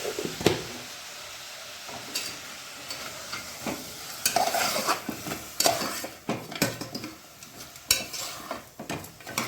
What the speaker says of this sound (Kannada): ಈಗ ಮಟನ್ ಬಿರಿಯಾನಿಗೆ ಮಟನ್ ಬೇಯಿಸ್ತಾ ಇದ್ದೀನಿ